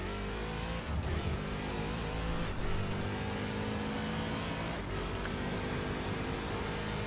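A Daytona prototype race car in iRacing at Sebring drones steadily with a continuous engine tone, shifting pitch as gears change, loud and close throughout.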